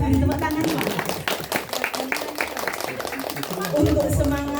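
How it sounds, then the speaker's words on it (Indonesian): Audience clapping at a kindergarten farewell ceremony, a continuous wash of claps running beneath loud amplified speech and background noise throughout. "Kita beri tepuk tangan Pak."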